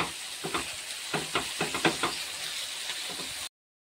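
Shrimp stirred and fried in a pan with tomato puree, a constant hiss under a quick run of close spoon knocks and scrapes that ends abruptly in silence.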